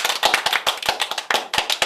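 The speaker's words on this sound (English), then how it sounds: "Everybody, clap your hands" A few people clap their hands in an irregular, fairly close patter of sharp separate claps lasting a couple of seconds, with no talking.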